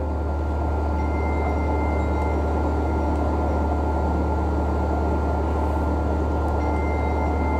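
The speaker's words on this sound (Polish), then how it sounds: "W tej chwili słyszymy dźwięk wysuwających się klap, które pozwalają nam raz jeszcze troszkę bardziej wyhamować samolot" Wing flaps extend in an aircraft cockpit during a landing approach, heard as a steady, loud mechanical drone with a faint high whine running underneath.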